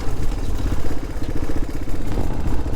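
A 1988 Honda XL200R motorcycle engine idles steadily and close by, a continuous low mechanical chugging with light clatter and no revving.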